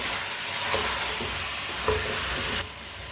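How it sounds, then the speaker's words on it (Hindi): Turnips and potatoes fry in a pan, giving a steady close sizzle with a few soft stirring scrapes and no talking. "भून लेंगे इसे"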